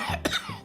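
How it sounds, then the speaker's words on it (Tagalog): A single close, dry cough, two quick bursts, heard alone in a cough medicine radio advertisement. "Ubo?"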